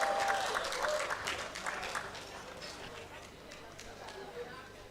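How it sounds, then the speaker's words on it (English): At an evening fellowship conferment ceremony, the audience gives a round of applause for a conferee, a burst of many hands clapping that starts strong and gradually thins and fades. "Please, a round of applause for her."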